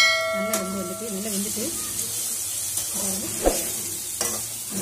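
Masala is stirred in a pan of ivy gourd poriyal as it fries with a gentle sizzle. A few scrapes and light clinks of the utensil against the pan cut in, and a brief ringing tone sounds at the start.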